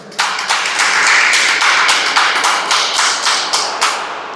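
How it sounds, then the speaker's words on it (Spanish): A church congregation claps in praise during a Spanish-language service, a steady, loud rhythm of many hands striking together in regular beats with no talking over it. "Dale palmas al Señor"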